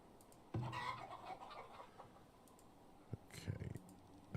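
Chickens cluck faintly at a chicken coop in the farming village of the video game Farthest Frontier, with two short bursts over quiet ambient game sound and soft clicks.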